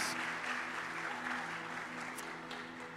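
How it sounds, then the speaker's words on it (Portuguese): Church congregation applauding, a steady, even wash of clapping from many hands that holds at moderate level for the whole stretch, with a low sustained tone running underneath. "Se a igreja puder, por favor, dê um aplauso ao Senhor pela vida dos nossos visitantes."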